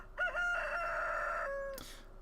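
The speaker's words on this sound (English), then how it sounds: "Cock-a-doodle-doo." A rooster crows once in the farming video game Stardew Valley, a clear, loud, drawn-out crow lasting over a second, then a brief bright chime.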